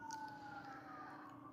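A faint, far-off siren holds a steady wailing tone, drifting slightly in pitch, with no other sounds around it.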